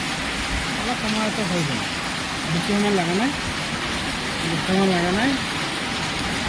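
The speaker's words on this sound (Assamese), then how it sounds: "সেইটো বৰষুণৰ কাৰণে অলপ মানে আপোনাৰ চাউণ্ডটো অলপ দিগদাৰ হৈছে" Rain falls during motor paper winding work, a constant broadband hiss that sits under someone talking.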